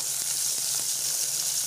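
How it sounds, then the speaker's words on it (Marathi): Green chilies and garlic dropped into hot oil, giving a bright, steady hiss of sizzling at close range with a few faint spoon taps, and no voices. "तेल आता गरम झालेलं आहे, मी मिरची आणि लसूण टाकून घेते"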